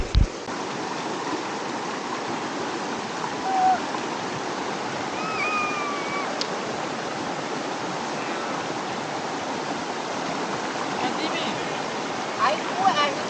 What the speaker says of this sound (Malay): Air kuat lah sini.